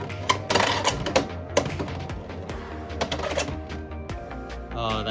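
Beyblade X BX-07 top ripped into a plastic stadium, spinning with a steady whir and rattling against the contoured walls, with sharp clacks of impacts, close and loud throughout.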